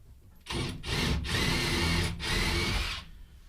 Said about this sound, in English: I'm just pre-drilling them, makes the lag go in a little bit easier.